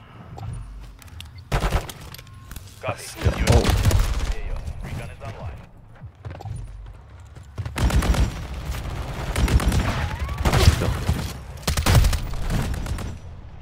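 Shotgun blasts and other weapon fire in Call of Duty, played in a hardcore mode, come as a string of loud, sharp, booming shots in irregular bursts over game noise, with a voice talking in between.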